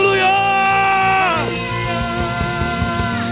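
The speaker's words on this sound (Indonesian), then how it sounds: "Teriakan haleluya." A church congregation at an online worship service shouts hallelujah together, a loud, ragged burst of many voices rising as sustained worship music fades beneath it.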